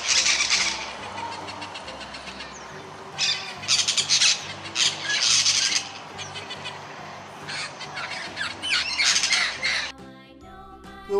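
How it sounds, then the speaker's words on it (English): A parrot squawks loudly in repeated harsh, raspy bursts, several calls in irregular succession over a faint steady background. "P for parrot."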